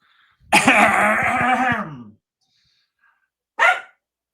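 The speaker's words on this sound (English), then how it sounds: "That was my dog." A single dog gives one long, harsh, throaty bark-like vocalization up close, followed after a pause by a brief second yelp, with near silence around them.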